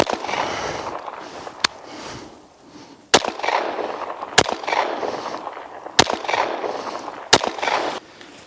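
Five sharp gunshots ring out at uneven intervals of roughly one to two seconds, fired at a self-healing target during a target test. Each crack is loud and abrupt over quiet outdoor background noise.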